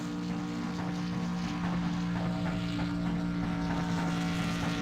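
A race car engine bounces off the rev limiter, heard as a loud, continuous high-revving drone with a steady buzzing tone and no talk.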